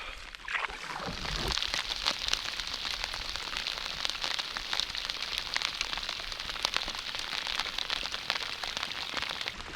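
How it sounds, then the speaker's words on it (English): Rain patters steadily on lake water and nearby surfaces during a canoe trip, a continuous hiss with scattered drops, and a brief low splash near the start. "I think this rain is gonna set in and stay for a little bit"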